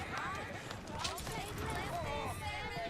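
Rapid clip-clop of horse hooves during riding in the Red Dead Redemption 2 video game, steady and continuous under dense game ambience.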